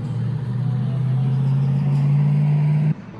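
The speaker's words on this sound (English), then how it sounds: "This is the infamous SRT Hellcat Gladiator conversion." Engine of an SRT Hellcat Gladiator conversion, a Jeep with a Hellcat Hemi swap, holding a loud, deep steady drone that climbs slightly before cutting off abruptly near the end.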